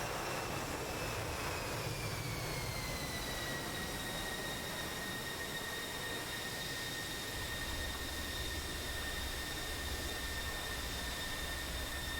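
An airplane landing in a flight simulator game, with a loud, steady jet engine roar and a high whine that slides down in pitch and then holds, continuous and close, no talking.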